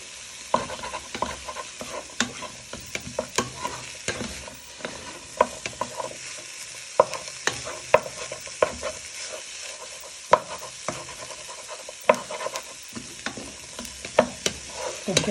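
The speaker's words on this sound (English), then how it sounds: "You want to give it a good toss and just break it apart a little bit so the flavour of the bacon coats into the onions and celery." Bacon, onions and celery are stirred and tossed in a pan over a steady frying sizzle, with repeated clicks and scrapes of the utensil against the pan, close and without voices.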